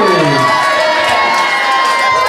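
A crowd of children at a birthday party cheers and shouts loudly for Rony, a dense burst of excited high voices filling the room.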